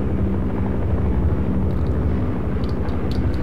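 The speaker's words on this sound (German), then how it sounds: "da oben ist der Heli" A helicopter hovers overhead in the Half-Life: Source game, giving a steady, loud low rotor rumble and engine drone that lasts throughout, with a few brief sharp noises near the end.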